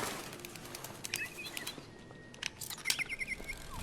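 Synthetic robot birds chirp faintly in Detroit: Become Human, scattered short tweets and trills over low ambient game noise, with no talking.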